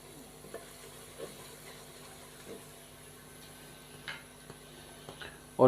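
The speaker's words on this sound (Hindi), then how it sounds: "लहसुन का पेस्ट शामिल करने के बाद हम इसको 1 से 2 मिनट मज़ीद फ्राई करेंगे" Garlic paste fries in a pan with a soft, steady sizzle, punctuated by faint clinks and scraping stirs, and a louder clatter right at the end; no one speaks.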